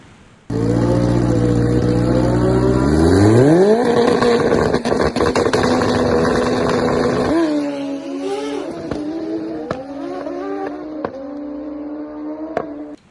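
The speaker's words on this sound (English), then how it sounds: "the clutch setup worked, and the bike dead hooked and took off" A drag racing motorcycle launches and accelerates hard down the strip. The very loud, close engine roar climbs steeply in pitch, holds at a high scream, then drops and fades with gear-change dips.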